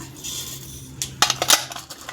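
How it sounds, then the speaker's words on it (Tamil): Faint crackling and a few sharp metallic clinks as mustard seeds hit hot oil in a pan, with a low background hum. "இப்போ தாளிக்கிறதுக்கு கடுகு சேர்த்திக்கலாம்"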